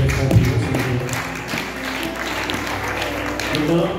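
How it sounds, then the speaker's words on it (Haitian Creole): A crowd claps for the chief at a church ceremony, producing dense, even applause that stays at a moderate level throughout and mixes with voices. "Ok, encore une fois, on va pour applaudir chef."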